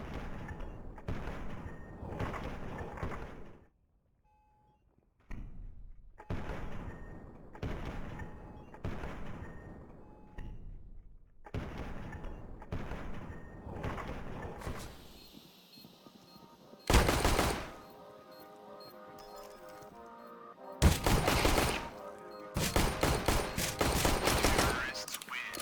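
Counter-Strike gunfire, dense bursts of rapid shots in long rolling volleys with brief gaps and a quieter stretch between, loud and close.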